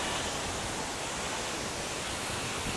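The waterfall at Cirque du Fer à Cheval in Sixt roars as a dense, unbroken wash of rushing water, loud and close, steady throughout with no voices.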